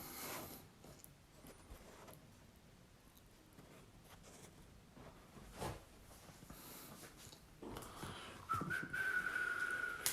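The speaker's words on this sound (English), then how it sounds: "Whistle to myself." After a stretch of quiet rustling and shuffling, someone whistles a short, soft tune near the end, low in level.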